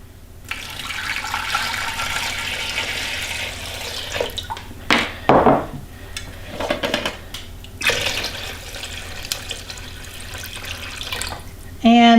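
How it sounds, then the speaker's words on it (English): Clean filtered water, about two quarts, poured into an Instant Pot for beef bone broth, a steady rushing splash that runs on and off in bursts, close by, with a person speaking between pours. "2 quarts of clean water is going in."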